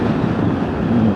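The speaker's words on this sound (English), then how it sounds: "It's getting windy again." Strong wind roars against the microphone while riding a Triumph Tiger 800 XRx adventure motorcycle, a loud, continuous broadband rumble with no pauses.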